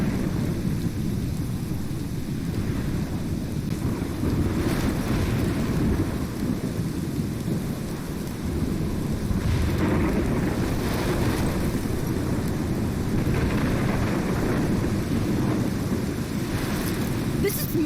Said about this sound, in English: This is my storm.